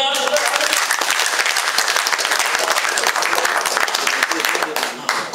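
Loud, dense audience clapping at a live comedy and music show, a sustained burst of many hands close and energetic with some crowd noise mixed in.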